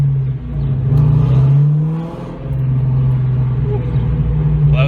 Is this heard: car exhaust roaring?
yes